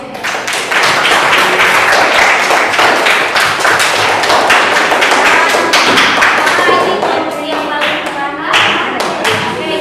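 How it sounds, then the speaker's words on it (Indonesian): A classroom group claps their hands together for a team, a dense sustained burst of close, sharp claps lasting the whole stretch, loud and steady with some voices mixed in. "Jadi kita tepuk tangan untuk"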